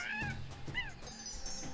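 A cat meows once in Tales of Monkey Island amid a busy layered background of music and other sounds, with a short rising-falling call near the middle.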